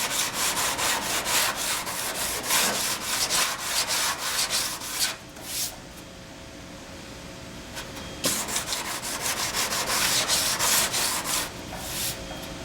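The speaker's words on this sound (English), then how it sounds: "So I got a little bit right here I have to sand down there." Hand sanding of car paint down to bare metal during a touch-up repair, a steady rhythmic scrubbing rasp of fast back-and-forth strokes, close and continuous with one short pause midway.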